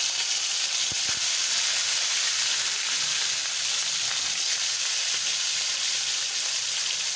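Pieces of turmeric-and-salt-rubbed catla fish frying in hot oil in a kadai, a steady loud sizzle and hiss with a couple of brief clicks near the start.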